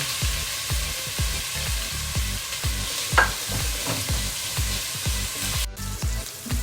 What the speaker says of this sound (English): And now I'm gonna put my onion in